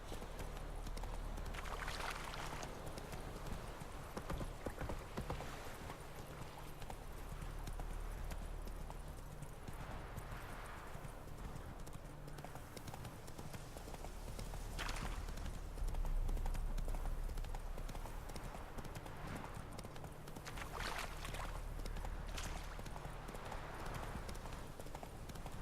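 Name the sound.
horse Roach galloping in video game The Witcher 3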